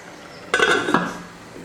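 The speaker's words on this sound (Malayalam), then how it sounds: "ഇനി നമുക്ക് അടച്ചു വെച്ച് കുക്ക് ചെയ്യാം" A metal lid is set onto a pot of Kannur-style fish curry with raw mango, giving a bright clattering clink and a brief rattle as it settles, close and alone in a quiet kitchen.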